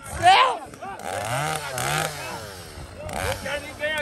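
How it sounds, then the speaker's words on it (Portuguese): A chainsaw starts and runs on a roadside, its buzzing engine rising and falling under loud, excited speech and shouting from nearby people throughout. "Você ligou o motosserra?"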